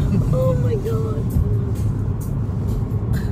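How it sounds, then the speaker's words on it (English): A car driven very fast on a road, its engine and road noise a steady loud rumble with whining tones rising and falling, while people talk and exclaim close by inside the vehicle. "He's driving so fast"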